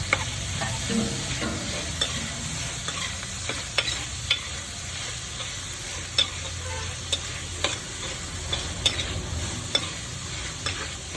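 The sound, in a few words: tomato and green chillies added to a frying pan for prawn theeyal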